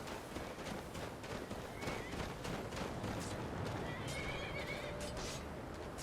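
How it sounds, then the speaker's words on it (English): A horse in the video game Skyrim neighs and whinnies amid hoofbeats and a busy, noisy background, faint and somewhat distant. "That is an actual horse fighting."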